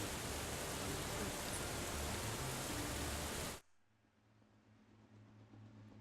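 Heavy rain in the visual novel game Steins;Gate 0 hisses loud and dense, then cuts off abruptly partway through, leaving a quiet low hum.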